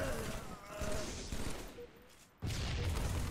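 Rapid bursts of gunfire and explosions from Halo multiplayer, with grenades going off in a busy firefight, loud and continuous with a brief lull before another blast.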